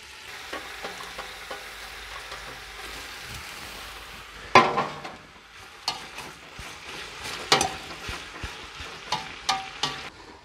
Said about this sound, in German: So, Öl ist heiß, kommt jetzt ein Teil der Paprika rein.